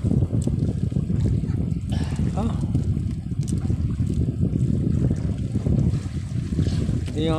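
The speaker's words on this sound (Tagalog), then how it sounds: "Malamig, ano, malakas ang hangin." Strong cold wind blows at sea off Prieto-Diaz, Sorsogon, buffeting the microphone with a constant loud rumble aboard a boat during sea urchin gathering, while faint voices and splashing surface now and then beneath it.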